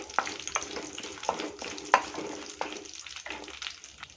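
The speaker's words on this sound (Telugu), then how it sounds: "ఈ మసాలా దినుసులని మనము తాలింపు వేసి ఫ్రై చేసినట్టు ఫ్రై చేసుకోవాలా." Whole spices for tempering crackle and fry in hot oil, soft sizzling with a few sharp stirring clinks and pops, close and fairly quiet with no talking.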